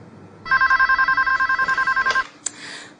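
A telephone rings with a rapid warbling electronic trill for about two seconds, loud and close, then a single click as it stops.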